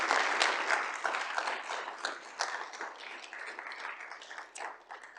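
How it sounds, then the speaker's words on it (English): A conference audience applauds after a speaker's talk, a burst of many hands clapping that starts strong and gradually tapers off over a few seconds. "Let's give him a round of applause."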